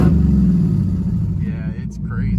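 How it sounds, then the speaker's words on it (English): A 2018 Dodge Challenger SRT Demon V8 idling with a deep, lumpy rumble close by, loud and steady, while a voice speaks over it. "The idle is so aggressive it almost sounds like it has an exhaust leak."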